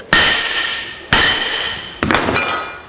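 Three loud, separate hammer blows ring out against 1/4 inch steel clamped in a vise, knocking a kink out of it. Each strike is sharp and metallic with a ringing decay, and no one talks.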